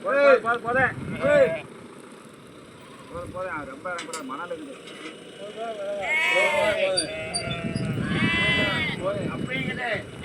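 Goats bleating while being loaded onto a vehicle during a move between grazing lands in Tamil Nadu, repeated wavering bleats from several animals growing louder toward the end, with people talking and mechanical noise in the background.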